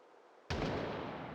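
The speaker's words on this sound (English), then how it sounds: "That was one gunshot meta." A single gunshot in the 007 video game, a sudden loud blast that cuts in after quiet and lingers as a broad, sustained roar.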